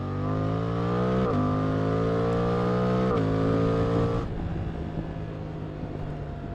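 Suzuki GSX-8R motorcycle engine running loud and close, with steady harmonic tones that step up through two gear shifts before the note drops away into rougher road noise.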